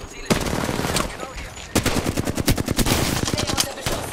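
Rapid automatic gunfire from an Apex Legends match, a short burst followed by a long sustained stream of close, loud shots with a brief gap before it.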